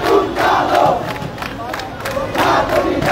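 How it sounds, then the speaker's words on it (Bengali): A large crowd of protesters chants slogans in unison at a street blockade in Shahbagh, Dhaka, rhythmic swells of many voices rising and falling, loud and continuous throughout. "তারা এই মুহূর্তে শাহবাগ অবরোধ করে রেখেছে এবং বিভিন্ন স্লোগান দিচ্ছেন তারা"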